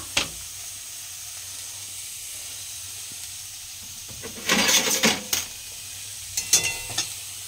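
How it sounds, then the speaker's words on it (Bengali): Onions stir-fried in a hot, dry wok (kadai), a low background hiss broken by bursts of sizzling and scraping stirs near the middle and again toward the end. "এখন আমি শুকনো করে পেঁয়াজগুলো একটুখানি হালকা করে আগে পেঁয়াজের রসটা শুকনো করে নেব।"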